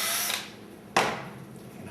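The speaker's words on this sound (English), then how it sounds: "I want to go ahead and drill a hole close to the bottom of this" A power drill boring a hole near the bottom of a part from a broken microwave door, a short whirring burst at the start, a pause, then a second sharp burst that fades away.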